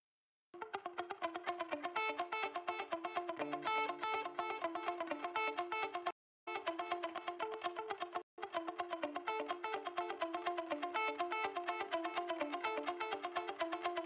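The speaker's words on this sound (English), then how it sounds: "this is actually a dotted, a delay with a 16th note dotted delay setting" Electric guitar through a dotted sixteenth-note delay for a progressive metal mix, a steady cascade of rhythmic repeating notes with echoing tails, loud and continuous with two brief cutouts.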